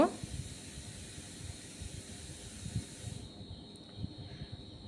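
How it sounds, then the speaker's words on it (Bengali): A Mughlai paratha fries in oil with a soft, continuous hiss and faint crackle, fairly quiet and close, with a steady tone in the background and the hiss easing off near the end. "আর একটা মোগলাই আমি ভেজে নিচ্ছি আর তেল দিচ্ছি"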